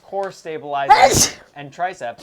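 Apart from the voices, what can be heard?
sneeze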